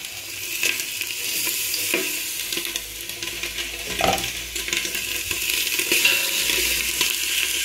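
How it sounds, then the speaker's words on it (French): Marinated chicken pieces sizzle and crackle steadily in a hot couscoussier, with occasional scraping and stirring clatter over the frying hiss. "faites chauffer votre couscoussier et ajoutez-y vos morceaux de poulet mariné"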